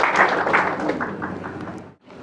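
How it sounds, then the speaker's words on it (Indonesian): Crowd applause at a church wedding ceremony in Purba Tua, Tapanuli Tengah, a dense patter of many clapping hands that stays steady and fairly loud, then stops sharply near the end. "Kita beri tepuk tangan yang meriah."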